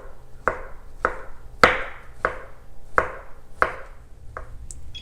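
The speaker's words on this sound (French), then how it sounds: "on vient couper finement les champignons" Mushrooms are chopped finely with a knife on a cutting board, eight crisp, evenly spaced strikes about half a second apart, close and clear against a quiet kitchen background.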